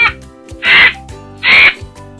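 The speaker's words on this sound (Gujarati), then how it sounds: "હું કાગડો છું." A crow gives two loud, harsh caws about a second apart, close and clear, with quieter background tones between them.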